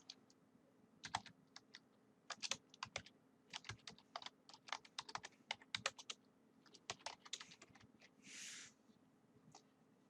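A question typed on a computer keyboard produces quiet, close key clicks in irregular bursts, with a short soft noise near the end, over a faint steady hum.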